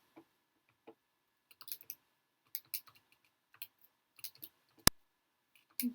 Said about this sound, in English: we'll type that into our calculator